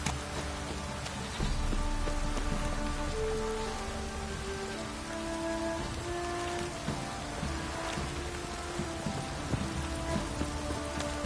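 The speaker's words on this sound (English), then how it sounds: "It's ploughing, pouring again." Heavy rain pours continuously in the video game The Witcher 3: Hearts of Stone, a dense steady hiss of drops on surfaces with a low rumble underneath, no voices.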